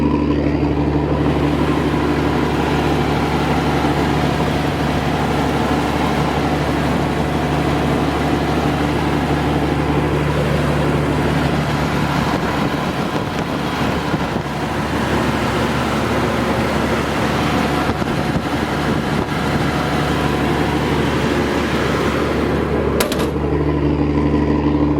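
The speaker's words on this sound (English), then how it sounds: "Driven belts always squealed like that." A Massey Ferguson 760 combine runs steadily and loud for the whole stretch, a constant heavy engine drone with a high, continuous whine from its driven belts, and a brief sharper burst near the end.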